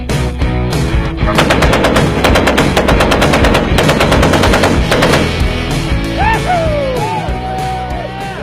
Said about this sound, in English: look at these machine guns. Everything here works, fully operational